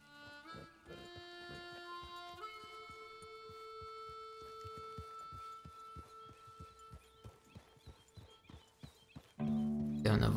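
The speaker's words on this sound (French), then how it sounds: "On va monter sur notre cheval" A horse's hooves clop in a steady, rapid rhythm while riding toward town in the video game Red Dead Redemption 2, layered under sustained game music, with a louder burst of sound at the very end.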